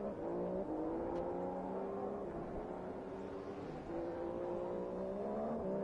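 A Formula 1 car in a racing video game, at Circuit of the Americas, drones steadily into the pits, its engine holding a low, even, slightly wavering tone at moderate distance, with no talk over it.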